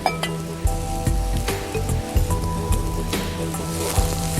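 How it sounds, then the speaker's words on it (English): Vegetables, including butternut squash, sizzle steadily in a hot pan, a close crackling hiss with scattered pops and faint clinks of utensils. "I let this simmer, actually sizzle more than simmer."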